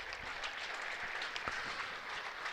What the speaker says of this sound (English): that will bring a round of applause, I would imagine,